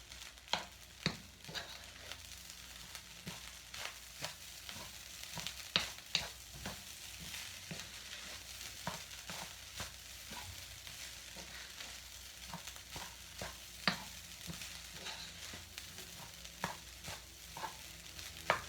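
Vegetable fried rice being stirred in a pan, a steady soft sizzle broken by frequent light scraping taps of the utensil, close and moderate in level, with no talking.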